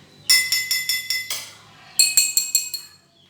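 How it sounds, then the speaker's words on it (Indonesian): Glass bottles struck one after another in a quick run of bright, ringing clinks, each at a different pitch, then a second shorter run after a pause, for an open and closed organ pipe experiment. "Ternyata botol-botol ini memiliki perbedaan terhadap suaranya."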